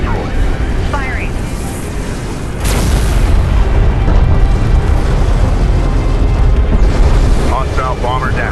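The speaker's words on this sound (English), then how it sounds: "Turret post destroyed. Firing." In the Homeworld: Deserts of Kharak video game, a turret post is destroyed in a heavy, sustained explosive roar and rumble, booms swelling partway through, with radio-style voices calling alerts over the battle.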